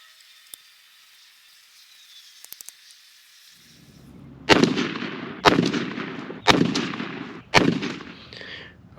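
Beretta shotgun with a full choke firing number 5 turkey shot outdoors, four loud, evenly spaced blasts each trailing into a rolling echo, after a quiet stretch with faint ticking.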